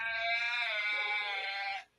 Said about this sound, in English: That's a husky.